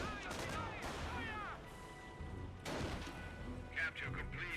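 Gunfire and artillery rumble in a Company of Heroes battle, with faint scattered shots and booms in the background under game voice lines.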